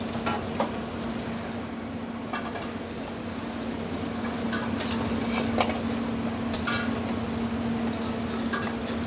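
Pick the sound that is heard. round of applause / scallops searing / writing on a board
scallops searing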